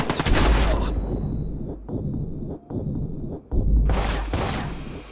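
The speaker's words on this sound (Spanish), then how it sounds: "¡Me disparan! ¡Me disparan!" Police fire on the player inside a prison in Watch Dogs: loud, rapid bursts of gunfire with brief gaps between volleys, close and harsh.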